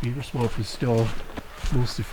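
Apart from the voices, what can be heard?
No distinct noise like a dog, phone or traffic.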